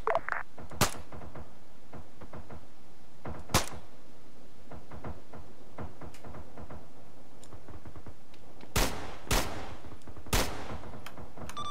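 Gunfire from a convoy firefight in a military video game cracks out in irregular single shots and short bursts, some sharp and close, others softer, over a low constant background hum.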